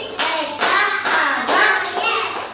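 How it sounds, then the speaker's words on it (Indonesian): A few sharp hand claps, counted out in a children's clapping game in a school classroom, ring out loud and close, spaced roughly half a second apart with short pauses between. "Tepuk 1 kali. 1 kali."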